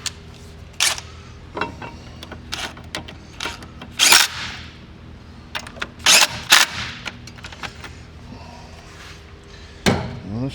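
An air impact wrench works a bolt on a brake caliper, giving several short, loud rattling bursts spread across the stretch with quieter handling noises in between.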